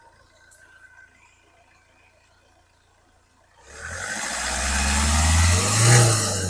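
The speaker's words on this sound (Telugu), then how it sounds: "నీట్ అండ్ సైలెంట్గా ఉంది ఇంజన్, ఎలాంటి ఆయిల్ లీకేజీలు ఎక్కడ వెహికల్కి" A 2012–2013 Hyundai i20 Asta diesel engine rises out of near silence partway through and runs with a steady, fairly strong hum close by.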